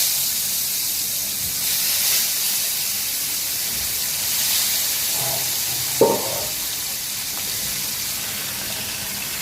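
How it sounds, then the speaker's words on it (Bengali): Fish fry in oil on a flat tawa pan, a steady close sizzling hiss that runs on evenly, broken once midway by a brief clatter of the pan or utensil. "ভালো করে মাছগুলো ভেজে নিব ভাজা হয়ে গেলে নামিয়ে বাকি মাছগুলো দিয়ে দিব তাওয়ার মধ্যে"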